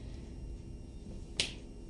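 One crisp, sharp finger snap rings out near the end of a quiet stretch of low room noise, brief and close.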